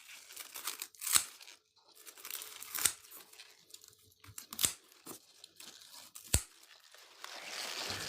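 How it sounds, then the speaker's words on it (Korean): Scissors snipping green onion stalks during a harvest, with four sharp crunchy cuts spaced roughly a second and a half apart, close and fairly quiet amid faint rustling of the leaves. "뭐 가위 같은 거 가지고 이렇게 끊으면 됩니다"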